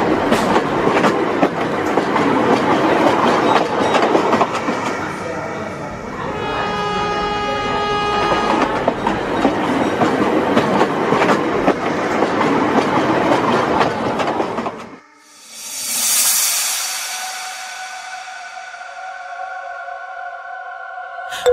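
Local commuter train running in an animated Bengali horror cartoon, with a steady rumble and rhythmic clickety-clack of wheels over rails for about fifteen seconds, then a brief lull followed by a loud drawn-out horn blast.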